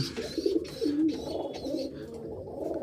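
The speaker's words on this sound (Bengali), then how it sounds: "এই যে দেখেন আমার কবুতরের বাচ্চাটা" Soft, low cooing from a pigeon chick close by, a few throaty warbling calls in short bursts with quiet pauses between.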